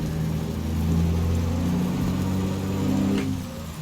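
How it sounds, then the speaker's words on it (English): Steady drone of a C15 6NZ truck engine in American Truck Simulator, a low rumbling hum holding a fairly constant pitch and loudness throughout, heard alone without any talking. "I have not driven this engine yet."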